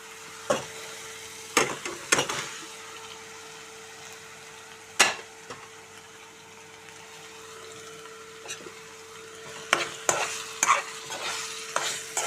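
Raw prawns frying in a pan and stirred now and then: scattered scraping and clattering strikes over a quiet, steady sizzle, with a faint constant hum running underneath.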